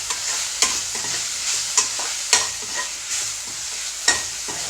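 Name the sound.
stirring drumstick leaves with turmeric powder in a frying pan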